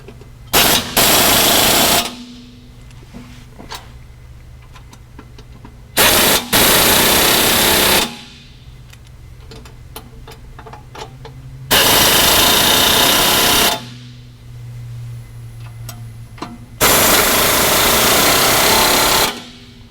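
A power tool tightens the rear A-arm bolts on a Pioneer 1000 in four loud rattling bursts of about two seconds each, with quieter workshop clatter in the gaps between them.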